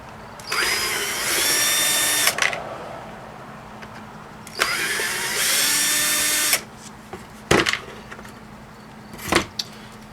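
Power drill driving out the three screws on a wet dry shop vac being scrapped, in two sustained whirring bursts of about two seconds each, followed by two short clattering knocks, close and loud without talk.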